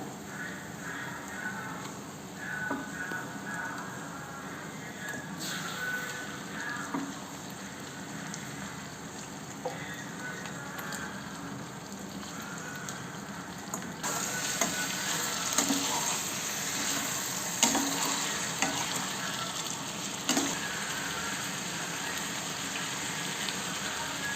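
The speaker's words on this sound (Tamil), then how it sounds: "நம்ம எடுத்து வச்சுருக்கிற சிக்கனை ஆட் பண்ணிக்கலாம்" Raw chicken drops into a pan of sautéed shallots, dried chili and ginger-garlic paste, setting off a steady, dense sizzle that grows louder and crackles more sharply partway through, with occasional spoon scrapes.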